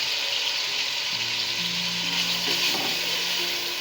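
A masala of tomato, crushed chili, turmeric and salt fries in oil, making a steady close sizzle with occasional stirring scrapes and faint background tones.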